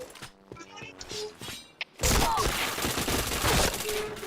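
Gunfire in the online shooter Point Blank: light clicks and thumps first, then a sudden, loud, sustained burst of rapid automatic fire with impacts, with game voices faintly mixed in.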